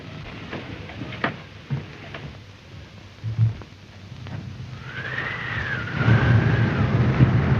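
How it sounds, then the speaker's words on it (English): A car pulling away at night in a 1933 radio mystery drama, a low rumble under faint background noise that swells and grows louder toward the end, with a whining tone rising and falling over it. "Heldorf's car just left."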